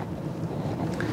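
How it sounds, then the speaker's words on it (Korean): Strong wind noise rushes from the front of a car while driving, a loud, steady broadband roar with low road rumble underneath and no talking. "앞에 오는 풍절음 바람소리가 너무 심합니다"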